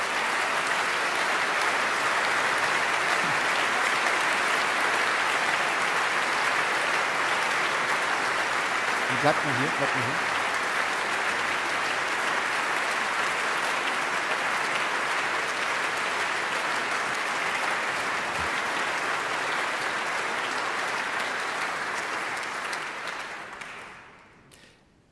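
At an opera gala benefit concert for rebuilding Ukraine, a large audience applauds: sustained, even clapping from a full hall for over twenty seconds. A brief spoken remark cuts in midway, and the applause fades out at the very end.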